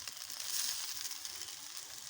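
Chow mein noodles fry in a pan with a steady, hissing sizzle that stays fairly even and close throughout, with no talking.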